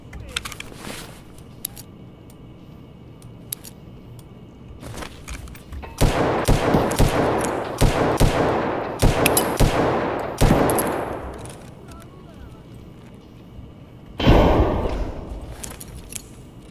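Gunshots in Escape From Tarkov, several sharp single cracks, then a loud cluster of rapid shots in the middle and a final heavy burst, over quiet ambient game sound.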